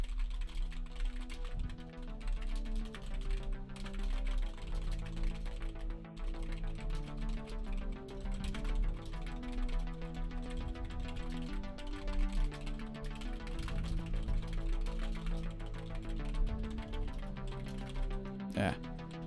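Steady, rapid typing on a budget computer keyboard runs continuously for the whole stretch, with occasional voices and music underneath.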